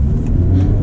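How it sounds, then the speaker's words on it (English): A 2024 Honda Civic Type R in R mode accelerates with a loud, steady low engine drone heard from inside the cabin, one continuous pull with no talk. "I feel like the car accelerates so much faster in R mode than it does in comfort or sport"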